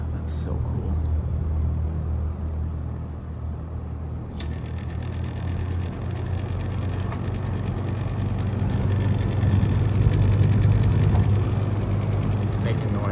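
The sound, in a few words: 1977 Superlectric 2083 slot car plastic motor running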